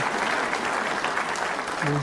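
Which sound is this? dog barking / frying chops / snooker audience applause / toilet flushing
snooker audience applause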